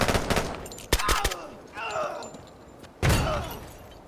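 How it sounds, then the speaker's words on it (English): Grenade blast and bursts of gunfire from the tactical shooter Door Kickers 2, with several sharp shots early, a muffled rumble in the middle and a heavy boom near the end, mixed with faint game sounds. "we're also going to get another grenade dropped down into this corner"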